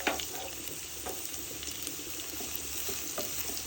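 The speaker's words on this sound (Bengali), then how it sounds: "তেল গরম হয়েছে, দিয়ে দিব পেঁয়াজ কুচি, কাঁচামরিচ খালি করে রেখেছিলাম।" Chopped onion and green chilies hit hot oil in a pan, giving a quiet, continuous sizzle with faint watery crackle and a small bump at the start, no voices.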